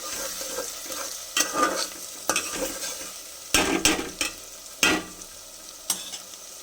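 Chopped onion, tomato and whole garlic frying in a handi pot for mutton curry, a steady close sizzle broken by repeated scraping and clattering stirs, with sharper bursts of activity throughout.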